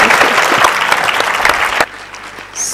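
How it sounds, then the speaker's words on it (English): Audience applause closes a literary festival panel session, loud sustained clapping from a crowd that drops off sharply near the end, leaving a quieter room. "a big round of applause for Sunjeev, Marlon, Anuradha, and Anjum"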